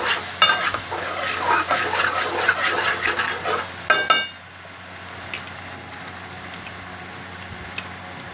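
Ridge gourd pieces stirred and frying in a hot pan for a Telugu-style curry, with a loud, dense sizzle and scraping stirs for about four seconds before dropping to a quiet low hiss with a few faint clicks.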